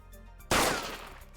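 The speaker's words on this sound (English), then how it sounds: "the gunshot sound kind of scared me" A single loud gunshot bursts out in a video game and rings off with a decaying tail over a low steady background.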